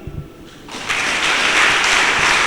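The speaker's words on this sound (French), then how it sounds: "vous demander de l'applaudir" Delegates at a teachers' union congress in Benin begin applauding the secretary general, starting after a brief quiet moment and swelling into loud, sustained clapping.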